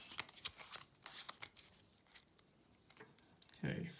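Pokémon trading cards being shuffled by hand in quick, crisp riffling bursts, close and fairly quiet, ending in a louder shuffle.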